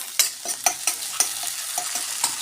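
A pan sizzles as chopped tomato is added, a utensil knocking and scraping repeatedly, an irregular series of sharp taps over the constant frying hiss.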